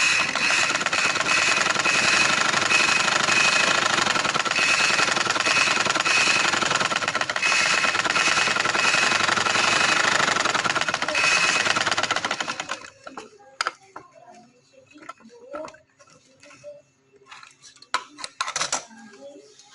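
A sewing machine stitches a shirt in a steady, loud, rapid whirring run for about twelve seconds, then stops, leaving scattered light clicks and handling noises.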